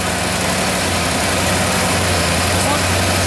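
A carpet cleaning blower runs steadily, a loud, constant droning roar with a low hum, close by and unbroken throughout.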